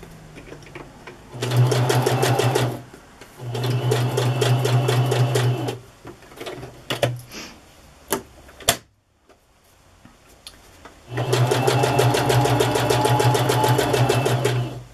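A non-digital sewing machine runs in two steady bursts of zigzag stitching on a junk journal page, pauses for some clicks and handling noises, then starts stitching again with a rapid rhythmic whir.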